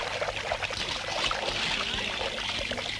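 Water runs steadily into pots, a continuous close pour and trickle with bubbly splashing, lasting the whole stretch without talk.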